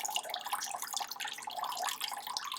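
Water from a tap runs steadily into a bucket, a continuous splashing hiss at moderate level with no speech over it.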